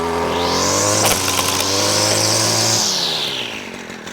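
A Stihl string trimmer fitted with an Autocut C26-2 head revs up close and loud, holds a steady high-pitched engine whine for about three seconds, then winds down.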